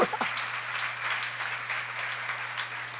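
Congregation applauding during a church sermon, a broad steady wash of clapping from many hands that carries on evenly throughout, moderately loud, with a low electrical hum underneath.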